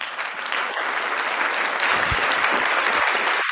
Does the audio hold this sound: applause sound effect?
yes